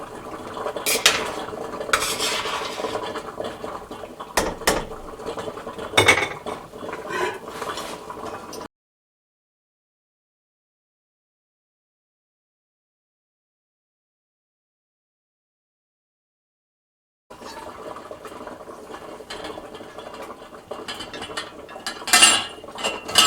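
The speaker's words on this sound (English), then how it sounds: "I'm taking the sterilized jars out. So I can sterilize the other batch." Sterilized glass canning jars lifted from a boiling water bath for strawberry preserves, with clinking glass, metal rattles and clunks before and after a long silent gap.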